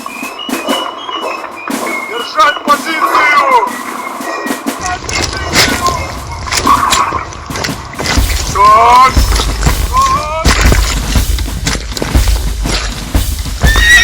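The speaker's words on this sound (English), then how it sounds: "The morning squelch of men and horses traversing mud-sodden ground is now punctuated by the crack of muskets" Horses whinny repeatedly amid cavalry troops moving over mud-sodden ground, with loud neighs and movement noise and a background voice.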